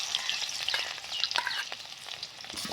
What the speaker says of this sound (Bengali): সুন্দর করে আমরা রুই মাছটা ভেজে নিব।